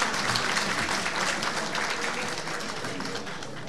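Audience at a Vakfıkebir municipal event applauds the arrival of Mayor Muhammed Balta, a dense, steady wash of clapping from a crowd that stays loud throughout and eases slightly near the end.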